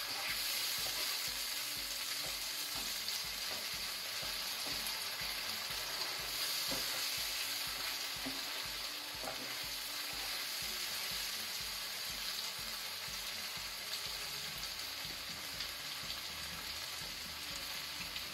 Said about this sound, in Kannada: ಇದು ಮಸಾಲೆ ಸಹ ತುಪ್ಪದಲ್ಲಿ ಒಳ್ಳೆ ರೀತಿ ಫ್ರೈ ಆಗಲಿ, ಅದರ ಹಸಿ ವಾಸನೆ ಎಲ್ಲ ಹೋಗಬೇಕು.